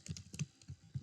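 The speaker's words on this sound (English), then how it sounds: "I'll just save a new folder on my desktop called Surface" A short, close burst of keystrokes on a computer keyboard, about half a dozen quick, uneven clicks, as a folder name is typed during surface roughness pass/fail setup.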